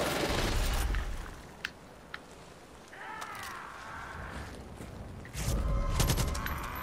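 Gunfire in Left 4 Dead 2, a steady wash of rapid shots with a few sharp cracks and a heavier burst near the end, set under game noise.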